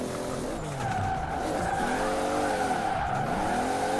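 Toyota Supra drifting sideways at high speed in sixth gear in the Forza Horizon 4 racing game, a loud, steady engine drone with tire squeal running continuously and close throughout.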